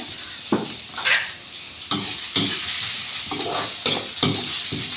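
Onion pieces cooking with a pinch of salt in a pan give a steady sizzle, broken by repeated scraping and stirring strokes of a spoon against the pan, close by with no talking.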